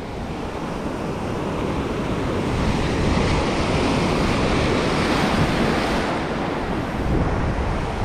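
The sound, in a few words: strong ocean waves crashing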